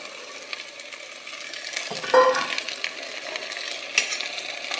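Onions and turkey berries sautéing in a pan, a steady close sizzle with scraping stir strokes and a light metallic clink, no voices.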